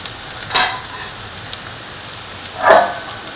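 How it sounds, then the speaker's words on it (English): Green chilies stirred in a frying pan, with two short bursts of sizzling and scraping separated by quiet, close and moderately loud. "Salt and mix the green chili."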